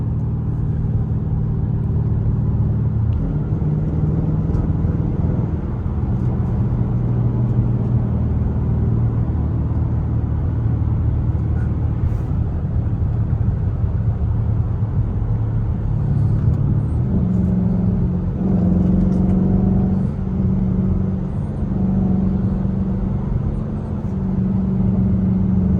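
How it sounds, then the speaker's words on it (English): A straight-piped Chrysler 300 with a cold air intake drives hard, its engine rumbling low and loud from inside the cabin, with rising and falling revs as the car accelerates and shifts. "Can y'all hear that cold air intake?"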